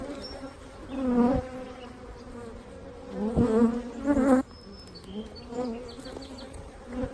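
Bees drone loudly and angrily around an opened backyard hive during a June split, with single insects swelling past close by, including a buzzing hornet near the brood frames.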